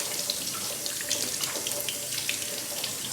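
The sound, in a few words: kitchen sink tap running water to rinse lentils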